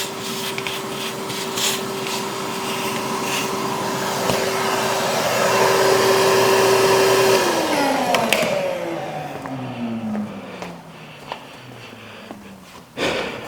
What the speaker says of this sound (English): To take the vacuum and vacuum anything that could fall down in there out of the way.